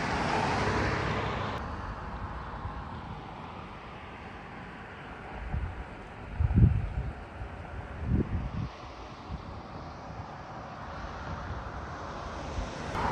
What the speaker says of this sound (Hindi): ये पीछे ट्रैफिक रवाना हुआ है